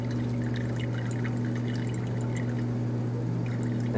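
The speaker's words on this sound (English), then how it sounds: "we can pour gently into the stir rod" Liquid pours steadily and gently along a glass stir rod for several seconds, a soft continuous trickle with a low steady hum underneath.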